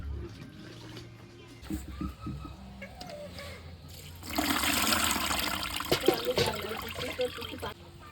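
Drumstick flowers are rinsed gently under running water, a soft trickle at first that swells into a louder, steady splashing stream midway, close by with faint household noise.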